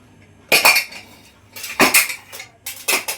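A pressure cooker holding tomatoes for Mandya-style uppsaru is opened after whistling, giving three bursts of loud metallic clanking and rattling close by, separated by short quiet gaps.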